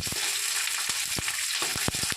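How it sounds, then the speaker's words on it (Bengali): Chopped onions fry in a pan with bay leaf and cumin, a steady close sizzle with soft scraping stir strokes recurring every fraction of a second. "এখন আমি পেঁয়াজটাকে ভালোভাবে ভেজে নিব।"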